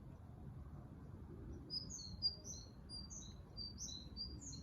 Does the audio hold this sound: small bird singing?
yes